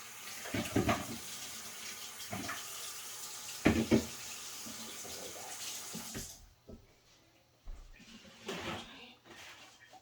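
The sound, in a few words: washing hands under running tap water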